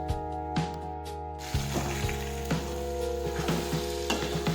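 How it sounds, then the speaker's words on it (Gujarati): Okra and potato pieces frying in a pan, a steady close sizzle with intermittent clinks and scrapes of stirring throughout, no talk. "થોડી વાર આપણે તળવા દઈશું."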